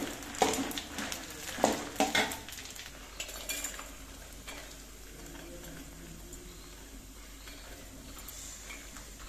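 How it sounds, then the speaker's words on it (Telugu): Tamarind leaves dry-roasting without oil in a pan, opening with a few loud stirring scrapes and clinks and then settling into a soft, steady hiss of toasting. "చింతాకు వేయించుకున్నామండి నూనె లేకుండా అదే బాండీలో ఉంటాయి"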